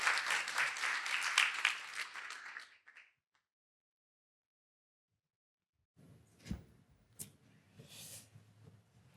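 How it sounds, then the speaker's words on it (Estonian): An audience at a panel session claps in a dense burst of applause that stops abruptly, followed by silence and then a few scattered room knocks and faint movement. "Teeme suure aplausi kõikidele, kes olid valmis siia mul paneeli tulema."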